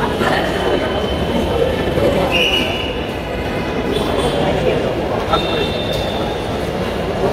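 Dhaka metro rail train pulling away from a station platform after boarding passengers, a loud continuous rumble with brief high squeals and tonal whines over the rolling noise; a voice talks over it.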